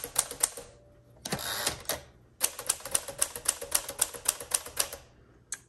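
A 1952 Smith Corona Sterling manual typewriter clacks in quick bursts of keystrokes, with a carriage movement in between, close and crisp.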